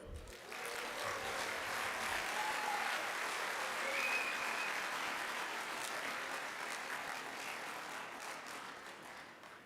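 An audience applauds a speaker at a convention general session, with broad sustained clapping that fills the hall for most of the stretch and gradually tapers near the end.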